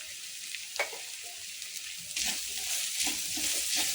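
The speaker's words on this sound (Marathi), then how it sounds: "हे बघा आपला मसाला छान भाजलाय" Garam masala and turmeric roast in a pan for vada pav, a soft continuous sizzle with a few light stirring scrapes, growing slightly louder midway.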